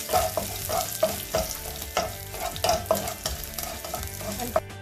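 Vegetables sauté in a pan over a high flame, with a bright continuous sizzle and frequent spatula scrapes and taps in a quick, uneven rhythm, close and loud, with no talking.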